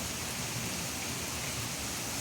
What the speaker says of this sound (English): But it's a big rain.